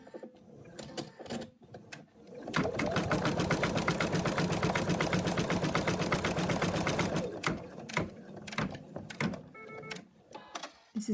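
Sewing machine stitching a fabric mouse arm, a fast steady mechanical whirr running for about five seconds, framed by quieter handling clicks and rustles before and after.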